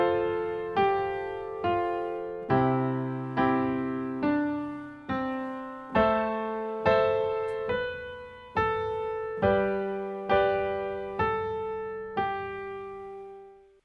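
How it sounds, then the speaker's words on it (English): Solo piano moves through a chord progression, with short melodic fills linking one chord to the next. Evenly spaced strikes decay before each new chord lands, all close and clear with no voices. "if you apply that technique to the whole progression, it sounds like this."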